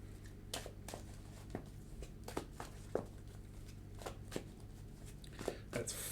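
Magic: The Gathering deck shuffled at a game table, a quiet run of soft rhythmic riffling and card slaps, close and low in level, with people talking faintly under it.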